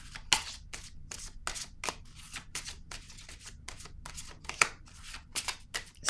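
Tarot cards are shuffled by hand for a new draw, a quiet, close series of crisp riffling bursts and soft slaps in an uneven rhythm.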